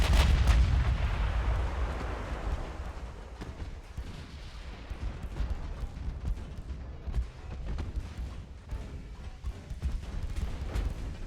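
Naval secondary guns in Ultimate Admiral: Dreadnoughts blast away at destroyers: a heavy opening boom followed by repeated irregular gun reports and rumbling, loud and continuous without speech.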